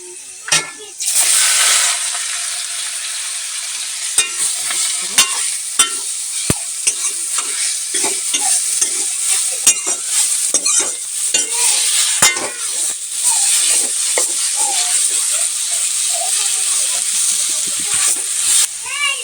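Saag greens fry loudly in a pan, a dense hissing sizzle punctuated by sharp crackles and stirring scrapes throughout, with occasional voice nearby.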